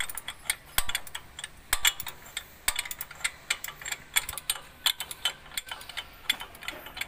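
Ratchet wrench loosening the alternator bolt on a Mitsubishi Mirage during a serpentine belt job, giving quick irregular bursts of sharp metallic clicks and ticks, close and moderately loud, with no talking.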